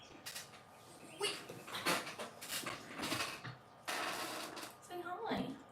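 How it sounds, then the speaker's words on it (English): A pet dog whimpers and pants in short bursts close by, with a mechanical whirring and a person talking softly to the dog over it. "it's hard being a dog"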